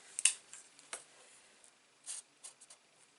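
A black Sharpie marker squeaks and scratches across paper while making a mini album, in a few short, quiet, irregular strokes with pauses between them and no talking.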